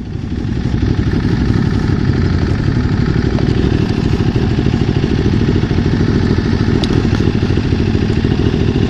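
A Ducati Multistrada motorcycle engine runs steadily and loudly through a quiet, shut-down ghost town, with a continuous close-up drone and no speech.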